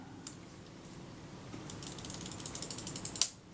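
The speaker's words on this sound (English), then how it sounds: "as I turn the film advance lever, the gear is rotating," Film advance lever on a faulty Kodak Retina IIc camera turning its gear, a close, quiet run of fine ratcheting clicks that speeds up and grows louder toward the end before a final sharper click.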